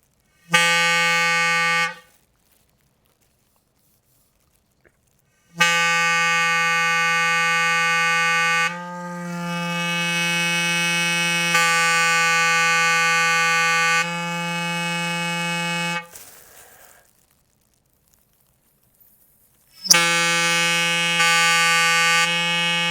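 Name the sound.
homemade membrane clarinet playing notes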